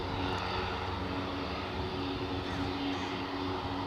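An aircraft departing Aberdeen Airport for Wick, a continuous engine drone with a low steady hum, fairly distant and even across the short stretch.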